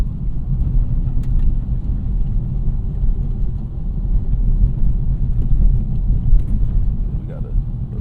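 An Acura Integra Type S on Falken Azenis FK460 winter tires rolls over a rough road, giving a steady, close low rumble of tire and road noise inside the cabin with no break.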